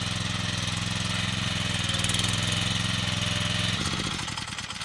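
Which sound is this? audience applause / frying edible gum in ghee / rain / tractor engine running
tractor engine running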